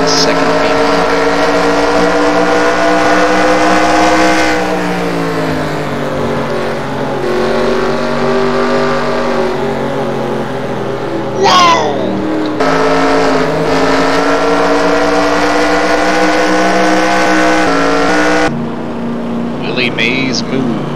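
Race cars at Rockingham Speedway drone loudly in close traffic, a sustained engine roar with shifting pitch and brief passing whines, while a voice talks over the din throughout.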